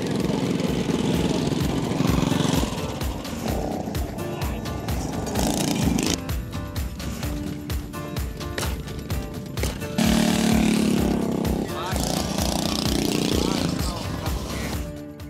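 A GoPowerSports 180 mini bike engine buzzes around a race track at a 2022 mini bike race event, its rough small-engine drone rising and falling in pitch, with people talking over it.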